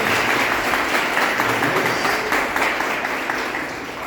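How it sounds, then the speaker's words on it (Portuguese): A church congregation applauds during a service, a dense, loud and steady wash of clapping that lasts throughout and eases off slightly at the end. "Uma salva de palmas para o Senhor."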